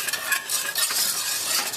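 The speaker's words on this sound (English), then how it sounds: "Go ahead and dump your grits in. Get it stirring." A spoon stirs grits in a pot of boiling salted water, a steady close scraping swirl over bubbling and hissing, loud and continuous.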